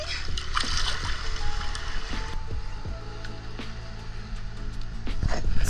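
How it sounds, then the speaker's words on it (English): Swimmers with goggles and snorkels jump into clear sea water at a local beach on a Japanese coast. Broadband splashing and rushing water churn steadily throughout, with scattered sharper splashes and a surge near the end. "So we jumped in the water and we were pretty surprised."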